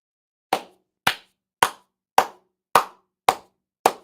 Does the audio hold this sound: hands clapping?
yes